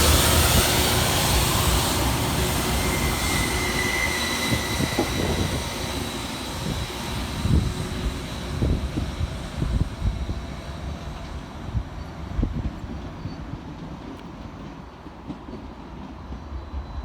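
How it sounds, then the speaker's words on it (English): A Transport for Wales Class 231 train at Cardiff Queen Street station gives a continuous broad rumble with engine drone and wheel noise that slowly fades over about seventeen seconds. "Arriving next into the station will be 231011, working the 1456 Transport for Wales service from Barry Island through to Bargoed."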